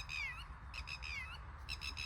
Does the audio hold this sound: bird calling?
yes